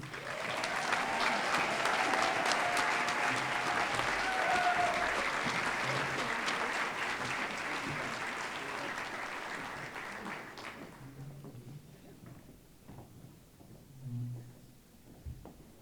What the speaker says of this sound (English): Let's give a round of applause to Zach McGinty.